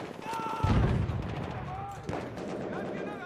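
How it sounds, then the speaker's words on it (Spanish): Distant gunfire pops and booms amid Battlefield 1 game sound effects, with a heavier blast early on and scattered shots following. "Oigo tiros"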